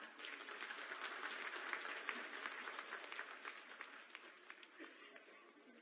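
Sustained crowd applause at a government appointment-letter ceremony for young women in Jharkhand, a dense steady wash of many hands clapping at moderate level, holding for several seconds and thinning slightly toward the end.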